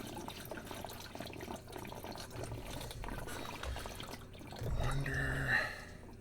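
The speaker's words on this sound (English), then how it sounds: "There should be some water coming out of here." Water runs and splashes from a freshly cut household supply pipe into buckets during a UV purification system install, a steady wash that swells louder near the end, with a brief murmured voice.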